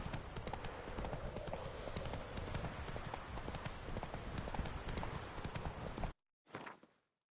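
Roach, a horse in The Witcher 3, trots with a rapid, even clip-clop of hooves that runs steadily for about six seconds, then breaks off before a short final burst.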